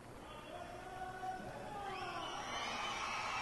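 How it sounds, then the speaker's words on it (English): A crowd cheering at the medal ceremony of the 2013 USA Karate Nationals in an indoor arena, a distant, steady roar that swells and grows louder partway through. "And now the crowd's going to go wild again."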